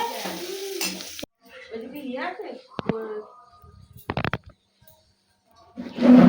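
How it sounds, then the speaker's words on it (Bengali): Carrots and green beans fry in a pan, giving a soft sizzle and stirring scrapes broken by pauses, while people talk over much of it. "এই যে গাজর বিনস এগুলো ভাজা করছি"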